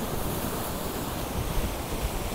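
Waves splashing against a pier on a cloudy day, a dense continuous wash of surf mixed with wind rumble on the microphone, steady and close with no talking.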